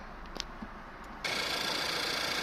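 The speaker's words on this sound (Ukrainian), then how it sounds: "Двигун запускається досить швидко." A Skoda car engine starts partway through, snapping from near-quiet into a steady, even idle that hums on without variation to the end.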